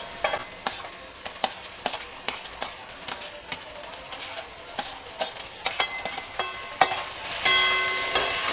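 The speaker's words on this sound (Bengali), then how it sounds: "এইগুলোকে আবার একটু ভালো করে সবজির সাথে ভেজে নিচ্ছি।" Meat, prawns and egg stir-fried with vegetables in a pan for restaurant-style mixed fried rice, with a close, continuous sizzle broken by repeated sharp scrapes and clacks of a spatula, growing louder toward the end.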